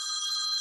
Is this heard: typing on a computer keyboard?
no